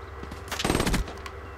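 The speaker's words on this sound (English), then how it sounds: "I bloody pulled the trigger" A quick burst of rapid automatic gunfire in the Black Ops 3 video game, heard close and fairly loud, lasting about half a second against a low background hum.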